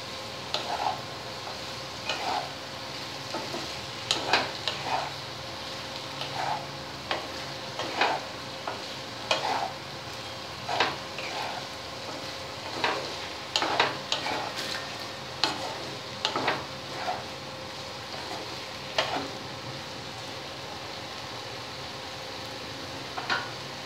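Boiled taro stems are stirred through spices in a hot pan, with a steady frying sizzle and repeated spatula scrapes and taps clicking at an uneven rhythm, close and alone.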